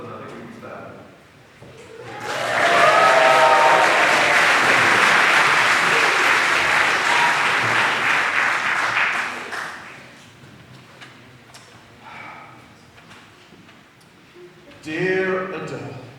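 Audience applause at a Christmas chapel concert, a loud burst of clapping that swells and holds for several seconds, then fades into murmuring and a voice speaking, with a brief rise of noise near the end.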